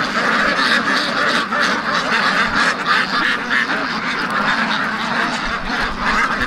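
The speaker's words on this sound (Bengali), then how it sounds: "এগুলো হচ্ছে বেলজিয়াম হাঁসের খামার" A large flock of white Belgian ducks at a riverside farm of about four thousand birds on the Doshani river quacks in a dense, continuous clamor, loud and close, with no pauses.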